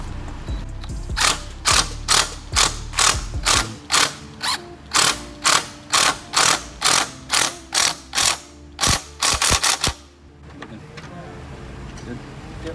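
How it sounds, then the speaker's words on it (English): Impact wrench tightening a 12 mm nut on a Subaru BRZ front splitter, about fifteen short even rattling bursts in a steady rhythm, loud and close, followed by quiet. "slowly, because this is an impact, so you want to do it slowly"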